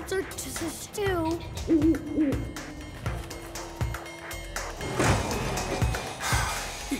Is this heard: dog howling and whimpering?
no